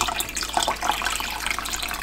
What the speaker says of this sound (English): So I'm gonna put a little bit more water in there.